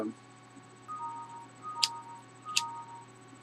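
A counting invention ticks softly and steadily against a faint hum, and two bright dings ring out about a second apart, each with a short metallic shimmer.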